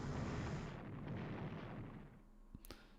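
German bombardment explosions in Strategic Command: WWII, a loud rumbling blast that decays over a couple of seconds, followed by a few sharp pops.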